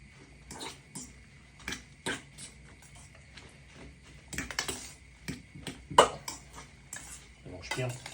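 Spoon scraping and clinking against a bowl while white bean soup ingredients are stirred, irregular close knocks and scrapes, fairly quiet, with no talk.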